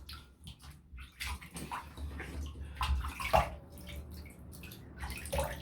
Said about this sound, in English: you fellas might not like the sound of running taps and stuff.